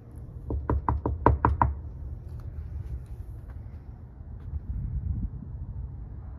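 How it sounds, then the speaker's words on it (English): A series of about six sharp knocks on a door, close and loud, in a quick cluster, followed by quieter outdoor ambience with faint rumble and a couple of soft thuds. "Knock on the door."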